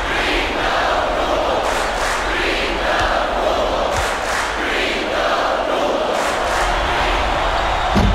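A college basketball arena crowd roars and chants steadily during free throws, a dense, loud wall of cheering and shouting that holds throughout with rising bursts.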